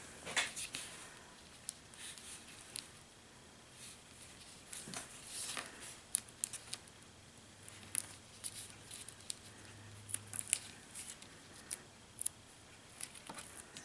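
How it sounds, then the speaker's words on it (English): Scissors snip through duct tape while trimming excess from a ruffle pleat, a scattering of quiet, sharp clicks and cuts at uneven intervals, close and faint. "I'm just going to take my scissors and trim that."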